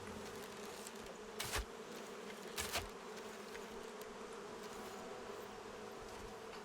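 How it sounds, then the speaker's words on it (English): Bees buzz around a trap with a faint, steady drone that carries throughout, broken by a couple of brief knocks. "Sounds like there's bees around here"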